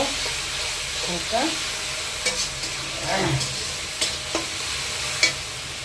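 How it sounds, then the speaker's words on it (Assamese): Cashews frying in a pan for shahi paneer, a close steady sizzle under several scraping stirs and knocks of a spoon against the pan, with no voices. "এতিয়া দি দিলোঁ আপোনাৰ কাজু, এইখিনি কাজুখিনি দিয়াৰ পিছত ধুনীয়াকৈ হিলাব"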